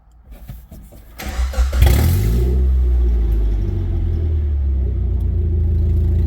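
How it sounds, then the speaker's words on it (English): An old Suzuki engine cranks over with a rough, rising churn that settles into a loud, steady low rumble close by. "Let's see if it cranks now"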